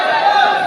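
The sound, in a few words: crowd noise in a packed gym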